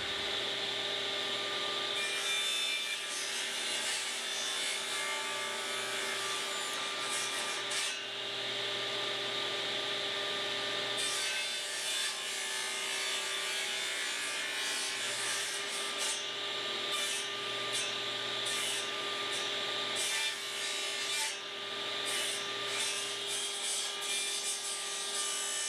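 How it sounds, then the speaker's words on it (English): A saw blade cuts wood steadily, trimming the corners off a wooden circle for a spring plant trolley project, with a continuous close, loud rasping whine that surges slightly as each cut bites, and no talk. "I like to cut my circles is to raise my blade up and cut off each corner until all the corners are gone"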